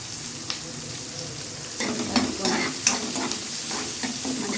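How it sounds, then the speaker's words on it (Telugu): Green chillies, curry leaves and onions frying and being stirred in a pan, a steady soft sizzle that grows louder partway through, with scraping stirs on top. "మంచిగా ఫ్రై చేసుకోండి."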